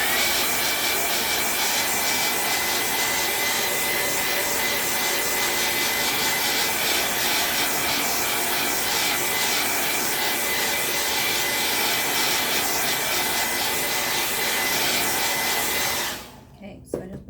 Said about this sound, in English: I didn't want to blow dry it too long or let it get too hot